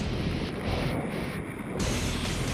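Steady loud rush of air during a military skydiving freefall, a dense unbroken roar buffeting the microphone throughout with no voices.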